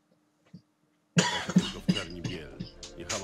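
After near silence, a person close by coughs several times in quick succession, sharp throaty bursts that gradually trail off.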